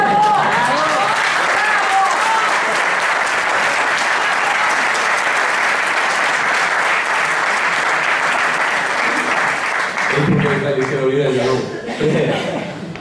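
Sustained, dense applause from an audience at a Spanish-language political talk fills the room for about ten seconds, loud and close, before fading into crowd murmur and a speaking voice near the end.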